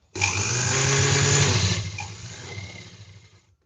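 A sewing machine runs in one steady continuous burst while stitching layered fabric for a blouse back panel, a loud close whirring hum that holds for about a second and a half, then eases off and fades out.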